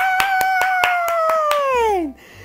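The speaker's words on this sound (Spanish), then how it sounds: "Todos aplaudieron." A short run of evenly spaced, crisp claps, about eight in quick succession, sounding under a sustained tonal voice that slides downward at the end, in a children's story about princesses.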